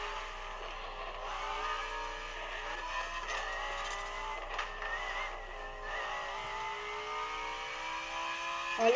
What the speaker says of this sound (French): La voiture elle a du mal à accélérer.